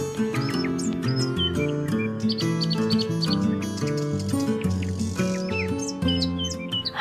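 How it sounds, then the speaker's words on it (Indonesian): Birds chirp in bright, quick repeated tweets over a steady musical backing of sustained tones, with several short calls scattered throughout. "Allah juga menciptakan berbagai jenis burung yang terbang di udara"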